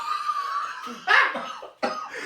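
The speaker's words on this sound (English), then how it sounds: "I've got to stop coughing" A few short, rough coughs in quick succession, close and fairly loud, with a breathy catch between them.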